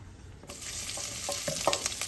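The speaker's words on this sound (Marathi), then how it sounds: "कढईमध्ये तीन चमचे तेल घेतलेलं आहे गॅसची फ्लेम लो टू मिडियम आहे आता त्याच्यामध्ये हा कांदा घालूया" Sliced onion drops into hot oil in a kadai over a low-to-medium flame, setting off a sudden, steady sizzle with a few light stirring scrapes and no talk.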